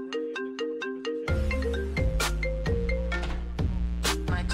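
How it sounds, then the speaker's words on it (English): An incoming-call phone ringtone plays a bright repeating melodic pattern, first alone and then over a dense burst of in-game music and effects from a competitive shooter, loud and close. "Guys, I'm getting a phone call."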